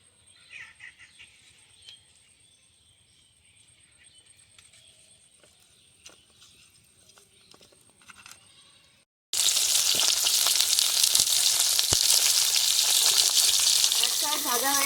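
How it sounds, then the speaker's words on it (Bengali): Rohu fish heads rubbed with salt and turmeric fry in hot oil. After a long near-quiet stretch with faint clinks, a loud, dense hiss of sizzling suddenly starts and continues to the end. "এভাবে উল্টে পাল্টে খুব ভালোভাবে মাছের মাথাগুলো ভেজে নেব।"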